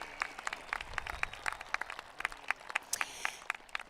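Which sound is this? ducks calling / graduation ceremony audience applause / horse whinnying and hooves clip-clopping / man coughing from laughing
graduation ceremony audience applause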